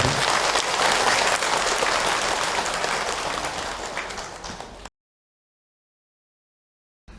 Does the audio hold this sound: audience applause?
yes